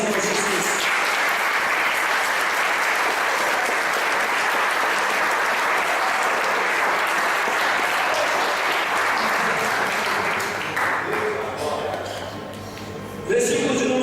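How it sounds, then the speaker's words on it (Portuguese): A church congregation at a worship service breaks into sustained, loud applause that fills the room for a long stretch before thinning briefly near the end. "Deve dar salva de palmas para o Senhor Jesus"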